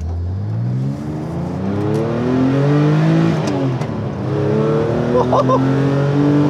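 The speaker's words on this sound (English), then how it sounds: "just love that air-cooled noise." An air-cooled Porsche 911 Clubsport flat-six drives loud and close, its engine note rising and falling steadily through gear changes, with brief laughter over it.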